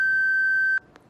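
A face recognition device gives one long, steady electronic beep that cuts off abruptly, followed by a faint short blip, close and clear.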